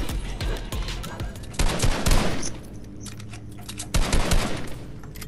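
Gunfire in the video game Fortnite, loud rapid bursts of automatic shots in several clusters with short, quieter gaps between them, close and sharp.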